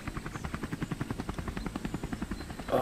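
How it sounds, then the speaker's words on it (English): Helicopter sound effect in a toy dinosaur stop-motion film, with a steady, fast rhythmic rotor chop throbbing evenly throughout at moderate loudness and no talk. "Just get in the chopper."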